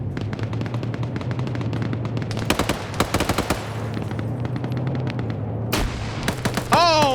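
Bursts of M249 machine gun fire in a video game, sharp repeated cracks over a steady droning background with scattered louder shots, fairly close and loud.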